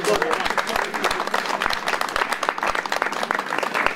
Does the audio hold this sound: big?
no